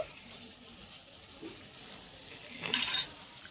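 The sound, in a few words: stirring drumstick greens with sugar in frying pan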